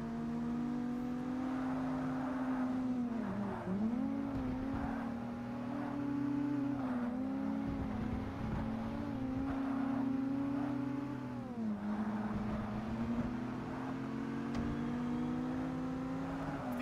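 A racing hatchback engine in Forza Motorsport drones and revs steadily, pitch dipping briefly at gear changes or corners and climbing again, a continuous loud whine without talk.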